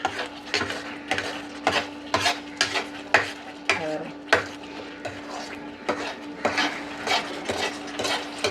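Thick wood apple jam stirred in a pan, a rhythmic series of scraping clacks from the spoon against the pan, about two per second, close and clear with a faint steady hum beneath, no talk.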